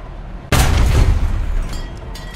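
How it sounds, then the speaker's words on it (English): A tank cannon fires a single loud, close boom in the War Thunder video game. The blast rumbles and decays into a dense, sustained roar. "Keep firing at the tank's weak spots to destroy internal modules."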